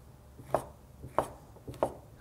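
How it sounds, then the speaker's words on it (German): Three evenly spaced knife chops cut chorizo into pieces on a cutting board, each a crisp, close thud against the wood, with no voices. "Die Chorizo wird jetzt erstmal klein geschnitten"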